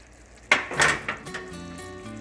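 Pecans tip into a pan of Twinkies and clatter against the metal, followed by a few sharper clinks and a soft sizzle as they begin to cook, fairly close and with no voices.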